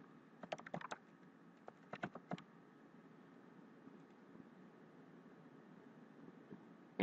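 Two brief clusters of light keystrokes on a computer keyboard while a username and password are entered, quiet and close, followed by near-silent room tone.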